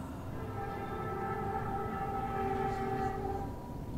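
A train horn sounds in long, sustained tones at night over a low rumble of passing rail cars, moderately distant and heard alone without speech.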